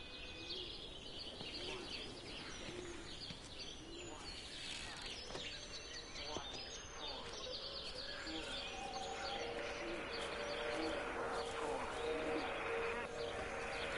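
Birds coo and chirp steadily in a game world of Everybody's Gone To The Rapture, pigeon-like cooing layered with scattered tweets over a constant outdoor ambience, with a voice speaking over part of it.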